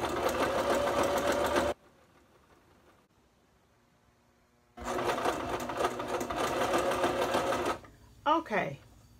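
A Brother LS 2400 sewing machine runs a zigzag stitch in two loud, steady bursts of whirring, separated by a few seconds of near silence, followed by brief faint sounds at the end.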